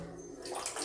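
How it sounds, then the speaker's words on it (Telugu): Water runs weakly from a bathroom tap with a poor supply from the tank, giving a soft, thin trickle that grows into a brighter, hissing flow partway through. It sounds close but quiet. "అదే స్లోగా వాటర్ వస్తుంది."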